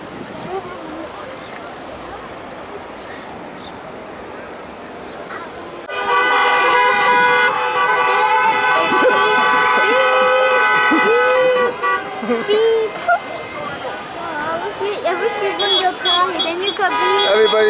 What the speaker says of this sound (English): but the traffic is jammed